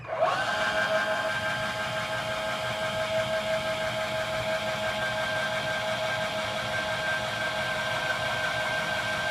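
A machine tool centre-drills the end face of a part, giving a steady, loud mechanical whine with a sustained tonal hum that holds evenly throughout, no talk over it.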